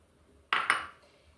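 Grated coconut dropped into a mixer grinder jar, a quick hard clatter with two close impacts and a short ringing tail, alone and nearby.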